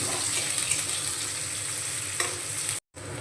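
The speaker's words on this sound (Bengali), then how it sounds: "পেঁয়াজটা আমি ভেজে নেব।" Chopped onions fry in hot oil with black cumin seeds in a wok, giving a steady close sizzle and hiss with light stirring. The sound cuts out briefly near the end, and no one speaks.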